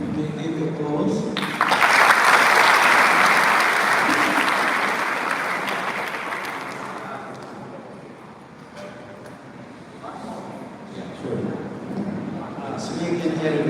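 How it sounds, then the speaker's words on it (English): A crowd at an academic and activist dialogue event breaks into dense, loud applause that swells early, then slowly fades, with voices talking over the tail end. "Give you applause."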